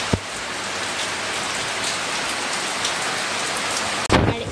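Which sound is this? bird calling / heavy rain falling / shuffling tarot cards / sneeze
heavy rain falling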